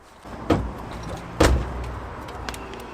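Boot lid on a Toyota Supra being shut, giving two solid thuds about a second apart over a quiet background, the second slightly louder, with a faint click afterwards.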